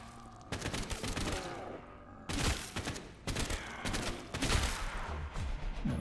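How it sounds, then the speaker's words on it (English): Assault rifle fire in a VRChat zombies game, loud rapid bursts of automatic shots in several strings with short pauses between them. "Assault rifle."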